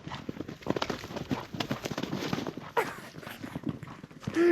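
A horse without a saddle walks at night in snowy Georgia, its hooves clip-clopping in an uneven rhythm, close and fairly loud, with a faint voice near the end.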